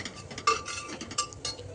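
A utensil stirs ginger-garlic paste in a cooking pan with soft, quiet scrapes and a few light clinks, close by and with no talk.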